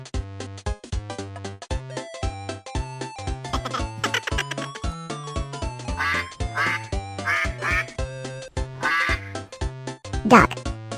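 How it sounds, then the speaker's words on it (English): Cartoon-style farm duck quacking repeatedly in quick bursts over a bouncy children's song with steady instrumental backing, the quacks loud and close near the end. "Duck."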